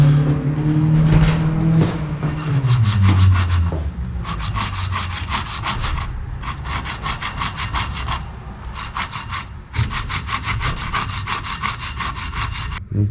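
Glass is wet-sanded with soapy water while rebuilding a GM electronic throttle body injection unit, making rapid rhythmic scrubbing strokes in several bursts separated by brief pauses, close and loud over a low background hum.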